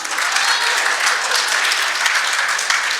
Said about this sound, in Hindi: यहाँ ताली बजानी है